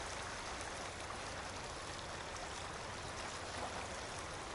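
Fast-flowing river water rushes in a steady, dense roar, constant and fairly distant with no breaks.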